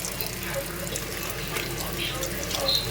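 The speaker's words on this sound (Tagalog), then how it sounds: "Dumidikit kasi yung mga uling-uling nito, guys. Kaya kailangan natin hugasan." Food with stuck-on charcoal bits is rinsed under a running kitchen tap, giving a steady, close splash and hiss of flowing water that stays even throughout.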